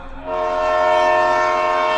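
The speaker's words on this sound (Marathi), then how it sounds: "एवढ्यात मला रेल्वेचा हॉर्न ऐकू आला" A loud, sustained train horn blares steadily for about two seconds, swelling in at the start and holding a rich, harmonic tone.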